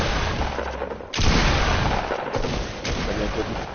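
Gunshots fired into the ground in the video game Fortnite: loud, close blasts cut in sharply over a dense, noisy game mix, with one strong burst followed by another a little later.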